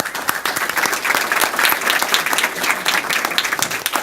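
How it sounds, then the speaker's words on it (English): Steady, dense applause fills a school board meeting room as an elementary school is honored, loud and sustained throughout with no break. "let's give Blanche Charles a big round of applause"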